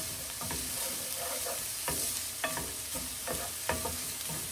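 A quarter of a chopped onion sizzles in a pan, a steady frying hiss broken by regular stirring taps and scrapes of a utensil, close and moderately loud with no talk.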